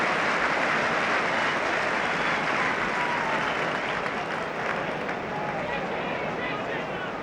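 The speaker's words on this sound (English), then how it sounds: "That applause for Alan Gowling, well deserved." A football stadium crowd at a Manchester United v Nottingham Forest or Ipswich Town v Liverpool match applauds in a broad, steady wash of clapping that fades gently, with a murmur of crowd noise underneath.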